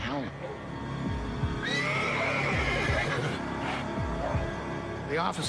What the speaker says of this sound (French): des chevaux qui hennissaient